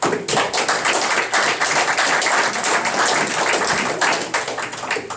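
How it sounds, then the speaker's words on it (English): Audience members clapping in the chamber at a town council meeting, a dense, loud burst of hand claps that continues steadily for several seconds and eases slightly toward the end. "Thought we weren't supposed to clap."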